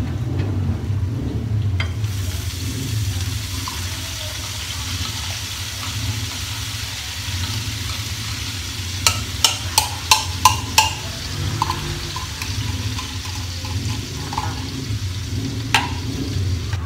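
Corned beef sautéing in a pan gives a steady sizzle with a low background hum, and a few sharp clinks of a utensil against the pan partway through.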